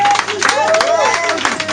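A church congregation breaks into a brief burst of loud, dense applause and cheering, with voices mixed into the crowd noise.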